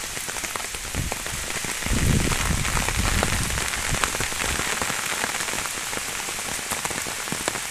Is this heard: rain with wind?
yes